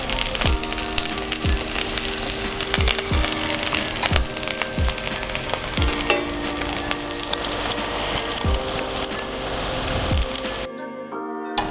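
A thick watermelon steak sears on its last side in a pan, giving dense, close crackling and sizzling with a steady rhythmic thump behind it before the sound drops away at the very end.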